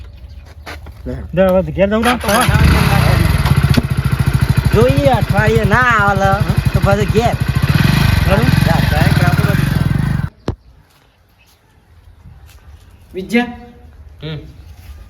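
A Royal Enfield Bullet motorcycle engine runs steadily and loudly for about ten seconds with voices talking over it, then cuts out, leaving brief talk in a quieter background.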